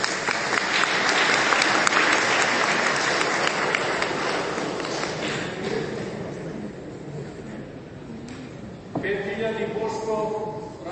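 An audience at a church auction applauds. Dense, sustained clapping fills the space loudly, then gradually thins. A voice speaks over it near the end.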